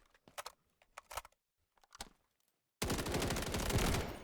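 Gunfire in the video game Delta Force: a few scattered single shots and short bursts, then a sustained loud fully automatic stream of rapid rounds, with no talking.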